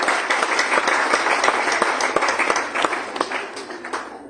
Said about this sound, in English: A big round of applause for Ms. Ragini Chandershekhar, a renowned guest for today.